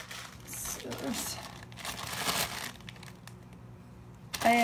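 Plastic bag of frozen vegetables crinkling and rustling close by as it is handled and cut open for an ocean perch bake, in steady bursts, with a brief tonal sound near the end.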